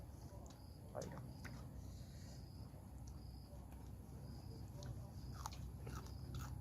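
Someone chews a Thai tam sua salad close up, with scattered soft crunches and bites over a steady, hissy background.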